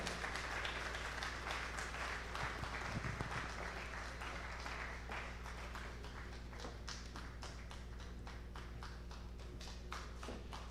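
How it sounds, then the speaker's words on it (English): Audience applause at a National Diaspora Day celebration welcomes the guest of honor, a faint, distant spread of clapping over a low hum that thins into scattered, sparser claps toward the end. "Please, a round of applause as he approaches the podium."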